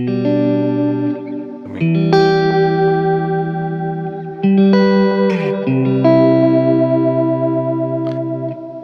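Electric guitar notes ring out through a Flashback delay pedal, each phrase trailing off in clear echoing repeats, loud and close with no talking.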